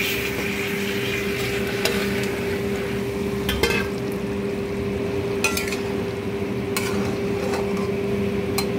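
Boras fry with nearly cooked potatoes in a pan, a steady sizzle under a constant hum, punctuated by several sharp clanks and scrapes as the mixture is stirred.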